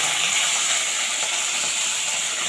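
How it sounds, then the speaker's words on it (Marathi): Green chilies roasting in hot oil in a pan for a village-style cluster bean dish, a loud, dense, continuous sizzle and crackle heard close up with no talking. "तेल तापलं आहे. आधी आपण मिरच्या भाजून घ्यायच्या"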